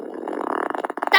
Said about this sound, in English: That's wet fart.